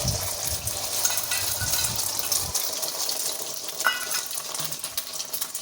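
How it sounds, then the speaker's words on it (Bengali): An egg fries in a pan with onion and chili for a pizza topping, giving a steady crackling sizzle throughout, with some low clattering in the first half that drops away after. "ডিমটা ভালো করে ভাজার জন্য পেঁয়াজ লঙ্কা দিয়ে দিয়েছি ডিমটা ভেজে নেবো"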